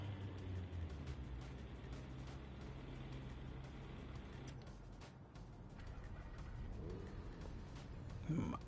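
A McLaren car engine in the Driveclub racing game, heard as a steady, low, continuous drone with road rumble that runs the whole time and swells slightly near the end.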